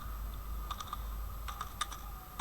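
Typing on a computer keyboard while entering text in Adobe Illustrator: two short bursts of quick, light key clicks over a low steady hum, close and fairly quiet.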